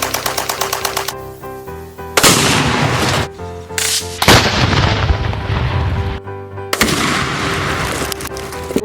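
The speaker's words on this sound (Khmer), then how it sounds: "នេះគឺជា កំភ្លើងកែវយឺតបាទគេប្រើវាសម្រាប់បាញ់ស៊ីបចម្ងាយឆ្ងាយ" A toy sniper rifle plays electronic gunshot sound effects: a quick run of rhythmic ticks, then loud, crackling bursts of rapid fire that cut in and out close by, with no talking.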